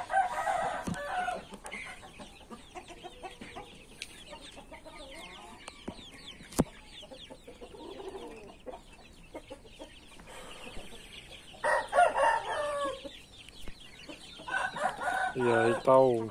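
Roosters crow and hens cluck on a poultry farm, several bursts of crowing near the start and again toward the end, with scattered background clucking and some quiet talk in between.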